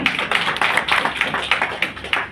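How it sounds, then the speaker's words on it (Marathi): An audience at a women's empowerment fun fair event applauds, a steady wash of many hands clapping close and loud, with no talk over it. "तिच्यासाठी आपण जोरदार टाळ्या वाजवूयात"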